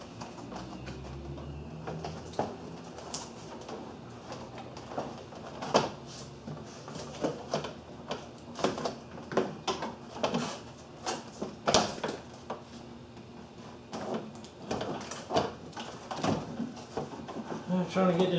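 A Ford Ranger door panel is being fitted during a window replacement: irregular plastic knocks, clicks and thumps at close range, coming in bursts with a voice talking between them.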